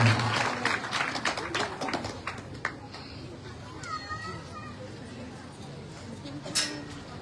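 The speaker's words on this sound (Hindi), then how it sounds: "जोरदार ताली से अभिनंदन करिएगा।" Audience applause at the Sadguru Kabir Gurukul fair in Lolesara, Bemetara district, Chhattisgarh: dense clapping and crowd noise that thin out after a few seconds, leaving scattered voices and children in the background.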